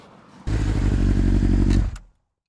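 A Suzuki GSX-S1000-GX crossover motorcycle starts up loudly and close, holding a strong engine roar for about a second and a half before cutting off abruptly into silence.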